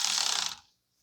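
A car battery terminal nut being tightened on a 2010 Toyota Corolla 1.8, likely with a ratchet wrench: a brief burst of rapid clicking lasting about half a second, close and fairly loud, then silence.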